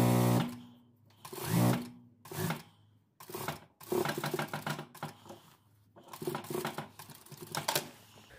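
A sewing machine stitches the hem of a dress, with thick topstitch thread in the bobbin. It runs in close, rapid bursts that start and stop between short pauses.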